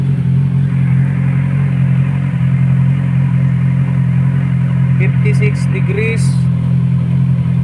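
A Kawasaki Ninja 1000 SX with the stock canister removed idles as a steady, loud, low rumble throughout, warming up toward 60 degrees Celsius; a few short voice sounds come in near the end.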